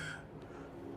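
One short, sharp cough right at the end after near silence, close to the microphone in an indoor lecture setting.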